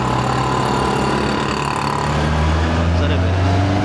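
The engine of a 2025 Honda CBR 650R motorcycle revs above 3000 RPM on the road, a loud steady drone that climbs in pitch toward the end, with someone speaking over it.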